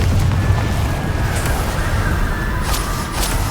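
Confringo blasting spell going off in Hogwarts Legacy, a dense rumbling boom that holds continuously with layered crackles and small bursts through the whole stretch, loud and close, with no voices.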